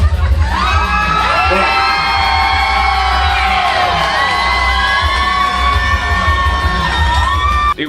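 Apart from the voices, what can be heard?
costume ball crowd cheering at Beetlejuice line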